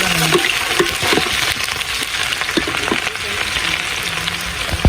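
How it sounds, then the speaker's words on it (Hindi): Onions hit a pan of frying chicken biryani masala and sizzle loudly in a steady hiss, with occasional stirring clatters throughout. "साथ ही प्याज को ऐड करते हैं।"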